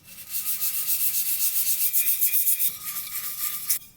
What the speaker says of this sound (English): So I'm taking some of these sanding pads, that's a 400 grit